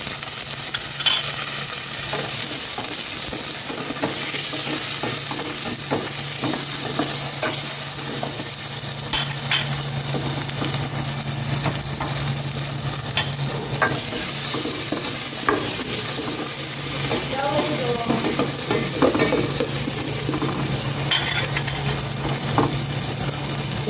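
Garlic, onion, tomato and long green chili sautéing in a pan, a dense close sizzle that runs continuously while a utensil scrapes and stirs at an uneven pace, with no speech.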